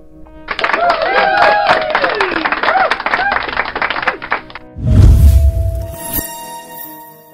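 A canned crowd-jeering sound effect from a USB live-streaming sound card: a dense burst of rowdy voices, whoops and whistles runs for several seconds, then gives way to a heavy low thump and a brief tonal tail.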